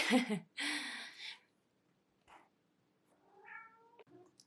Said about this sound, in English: Sorry, that is my cat, Steve.